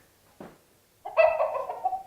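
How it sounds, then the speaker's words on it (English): A brief cluck, then a loud, close rooster crow drawn out for about a second, played as a sound in a memory matching game. "A rooster."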